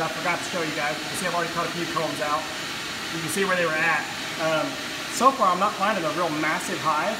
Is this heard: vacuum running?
yes